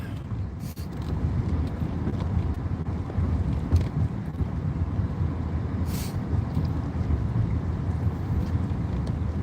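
Steady low rumble of a vehicle driving along on a morning ride, with wind buffeting the microphone throughout and no voices, continuous and fairly loud.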